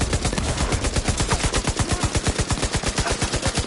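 A turret fires automatically in a PS4 shooter, unleashing a rapid, evenly spaced stream of loud gunshots that runs without pause, with no talking.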